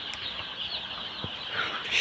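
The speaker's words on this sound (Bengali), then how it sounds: "এগুলো হচ্ছে আপনার টাইগার মুরগির বাচ্চা।" Tiger chicken chicks on a farm cheep in a continuous high, dense chorus, fairly faint and steady throughout.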